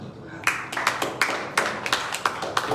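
A church congregation claps in distinct bursts, several sharp, fairly close hand claps falling in an uneven rhythm after a brief quiet start.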